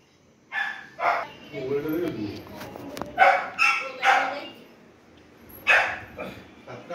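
A dog barks repeatedly outside a house during a trip to Koraput, the sharp barks coming in short bursts at moderate distance, with voices talking nearby.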